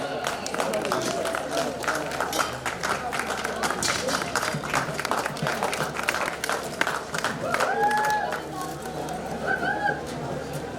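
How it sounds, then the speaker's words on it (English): An audience at an annual college cultural festival claps steadily through the clip, with a speaker's voice and some other noises mixed over the applause. "May we have a huge round of applause, audience?"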